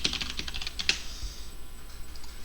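Fast typing on a computer keyboard while entering code, a dense run of close, crisp key clicks that thins out toward the end, with no voices.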